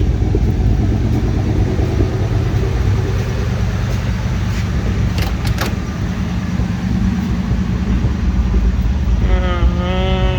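Engine of a 1971 International Travelall 1210 idling after 22 years off the road, a loud, steady, rumbling idle close by with a brief rising whine near the end.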